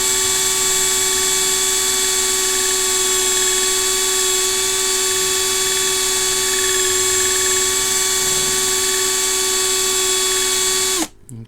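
A power tool polishing the plastic lens of a Hoover Junior Dirtsearcher vacuum, loud steady high whine held for about eleven seconds, then spinning down abruptly at the end.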